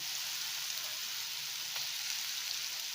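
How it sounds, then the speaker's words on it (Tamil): Grated raw mango hitting hot oil in a frying pan, giving a steady bright sizzle that carries evenly throughout, close and fairly quiet. "இப்போது திருகின மாங்காயை இதில் சேர்த்துக்கிறேன்."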